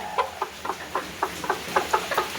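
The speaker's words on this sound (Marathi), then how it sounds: "कोंबडी कशी कुडकुडली आहेत पावसात भिजून इलेली आहेत" Rain-soaked, shivering chickens in a village cluck in short, quick bursts, about a dozen soft calls in an uneven rhythm, nearby against a quiet background.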